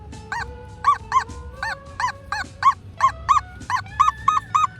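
A metal detector, a new machine under test, gives a high-pitched, squeaky signal over a buried target. Over a dozen short, sharp chirps repeat in a steady rhythm, close and clear against faint background noise.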